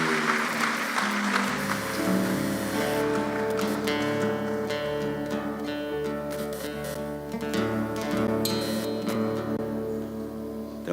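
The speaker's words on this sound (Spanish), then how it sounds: "Dale un fuerte aplauso a Él en esta mañana." A church congregation applauds during a Spanish-language morning service, steady clapping over sustained music tones, fairly soft and continuous throughout.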